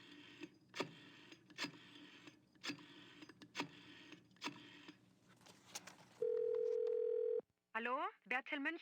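A telephone dial tone sounds in the Gabriel Knight game The Beast Within as a steady, loud tone lasting about a second, preceded by clicks and mechanical sounds and followed by a burst of warbling electronic tones.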